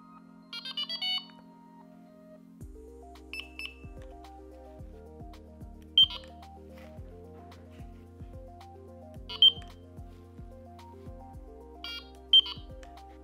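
A Delkim Txi-D digital carp-fishing bite alarm gives short electronic beep bursts and warbling tones, a few sharp louder bleeps spaced several seconds apart over a low steady hum.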